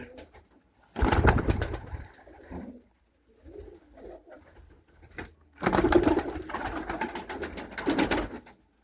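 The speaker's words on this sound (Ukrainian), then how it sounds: "Голубенята." Pigeons coo outdoors on a freezing winter morning around minus fifteen degrees, with two loud bursts of bird activity separated by quieter, softer cooing in between.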